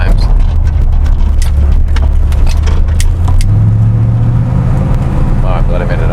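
A C3 Corvette driving along a road, its engine a loud steady rumble close up with a rising drone midway, wind and road noise over it.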